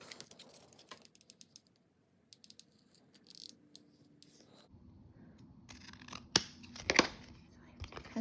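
Scissors snip through paper for a junk journal in quick, faint cuts, with gaps of near silence and some rustling and handling noise toward the end.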